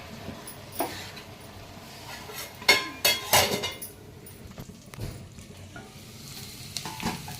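Tomatoes frying in a pan for a roti pachadi with dondakaya, giving a soft steady sizzle broken by a few louder stirring scrapes and clinks near the middle, with no voices.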